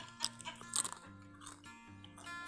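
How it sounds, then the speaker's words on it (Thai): Crunchy fried Thai jicama fritters (tod man kaew) being bitten and chewed up close, a few crisp crunches at first, then softer chewing sounds with a low steady hum underneath. "ทอดแล้วมันจะกรอบพออย่างนี้นะคะ เดี๋ยวจะเคี้ยวให้ฟังนะคะ"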